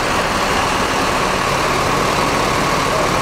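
A Hino diesel engine in a Laksana-bodied Indotrans bus idles with a steady, heavy low rumble, loud and close, running evenly throughout with no talking.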